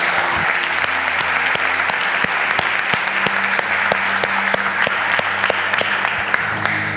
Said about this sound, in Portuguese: Vamos aplaudir o Senhor Jesus por isso.